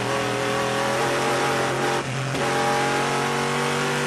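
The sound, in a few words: Le Mans race car limping back to the pits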